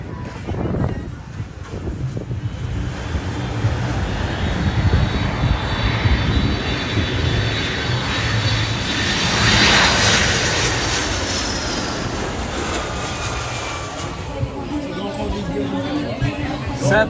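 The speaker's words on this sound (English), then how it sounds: "We are right now in Sint Maarten. This is Princess Juliana Airport." A fixed-wing airplane roars steadily and loudly at Princess Juliana Airport on Sint Maarten, its engine noise swelling and fading over several seconds while a crowd of people chatter nearby.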